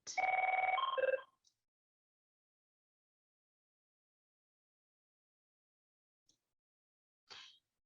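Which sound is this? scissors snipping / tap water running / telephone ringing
telephone ringing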